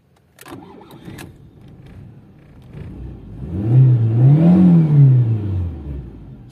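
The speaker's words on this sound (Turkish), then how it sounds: "Şimdi bir stop edelim. Yeniden bir marş basalım." A Fiat Tempra SLX being started: a few clicks and a brief crank, then the engine catches and the idle swells into a loud rising and falling rev before settling back, close up.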